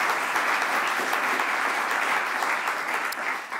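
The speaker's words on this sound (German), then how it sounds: "Vielleicht schon mal ein erster Applaus für unsere drei Preisträgerinnen und Preisträger." Audience at an award ceremony applauding three prize winners, a steady, full round of clapping from a sizeable crowd that holds even throughout.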